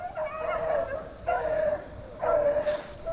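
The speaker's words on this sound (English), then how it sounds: "Here comes the dogs." Beagles baying and barking while chasing a rabbit on a mountain hunt, three drawn-out howling bays at intervals, moderately distant and carrying across open ground.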